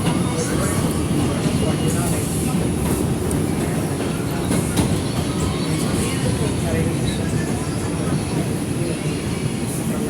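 An R142 subway car on the Manhattan-bound 4 Express line gives off a loud, continuous rumble from onboard, with a steady clatter of wheels on track running throughout.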